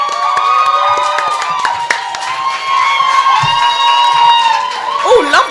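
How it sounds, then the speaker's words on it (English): A student union election-results crowd applauds and cheers loudly, with whoops and shouts over dense clapping that carries steadily throughout, and voices calling out near the end. "Oh, love that applause."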